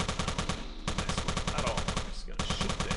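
Rapid automatic gunfire from a submachine gun in the top-down shooter Teleglitch, loud, dense bursts hammering almost continuously with brief gaps, over game music.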